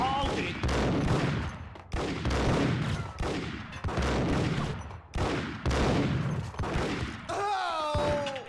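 Bursts of gunshots in Max Payne HD, repeated heavy volleys roughly every second with sharp onsets and decaying tails, loud and close, with a whistling sweep at the end.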